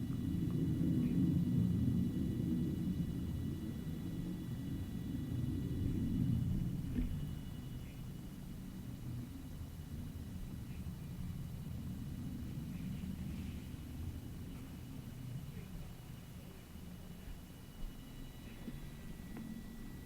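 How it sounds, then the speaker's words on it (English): An airplane passes overhead in a quiet apartment room, a low, broad rumble that swells, fades and swells again, steady and moderately distant. "That's a plane, I think, I hope. Yeah, a lot of planes over here"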